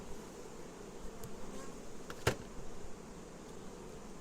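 Honey bees buzzing on hive frames in a queen-rearing colony, a steady soft drone close by with a few brief knocks and clicks, no talking.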